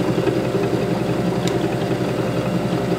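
A grid-tied zero cogging generator running at 656 RPM, giving a steady close mechanical hum and drone with a faint rhythmic pulsing and no talk.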